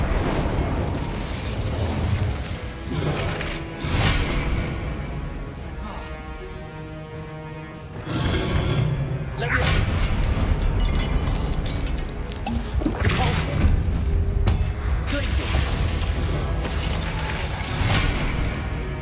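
Fire and explosion spells are cast in Hogwarts Legacy, with repeated booming blasts, crackling bursts and mechanical clanks rising and falling over a game soundscape, and a player's voice shouting between them.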